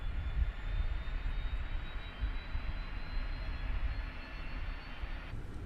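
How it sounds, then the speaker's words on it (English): An airliner's auxiliary power unit starts up in a flight simulator, a steady rumbling whine with a faint high tone, moderately quiet and continuous with no talk. "You can hear the APU starting to fire up now."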